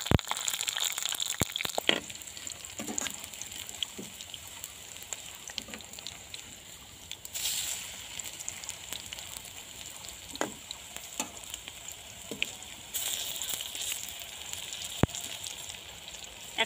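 Onion fritters (piyaju) fry in hot oil on a tin stove, producing a continuous close, crackling sizzle with scattered pops and a few louder surges of bubbling.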